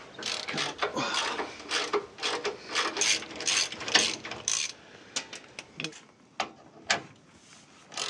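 A ratchet with a 13mm socket loosens a suspension clasp on a Land Rover Discovery 2, giving rapid runs of close, crisp clicking in bursts that thin out into a few separate clicks.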